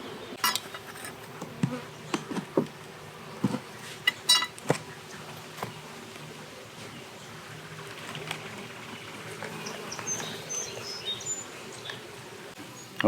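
Honey bees buzz around an open nuc hive outdoors, a steady droning hum with individual bees zipping close by, plus a few soft knocks and clicks from handling the hive; no talking.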